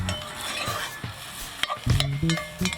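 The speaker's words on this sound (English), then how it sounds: "we're gonna take the ground turkey, we're gonna put it in the pan and we're gonna cook that up" Ground turkey sizzles steadily in a pan over a campfire at a beach campground while a utensil scrapes and stirs it, breaking the frying hiss with clicks and knocks against the pan.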